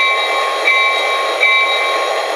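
A zebra-striped SP RS-3 model locomotive runs along its track with a steady, loud mechanical drone, faint periodic clicks of the wheels over rail joints recurring about every second.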